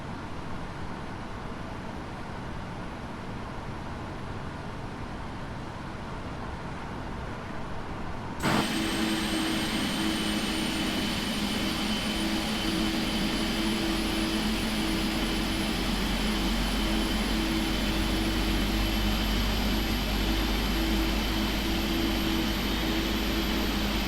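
Number 1 engine of a PMDG 777-300ER starting up in the FSX flight simulator: a low steady hum, then a sudden louder whoosh as the turbine spools up, with a rising whine that keeps climbing over a sustained roar.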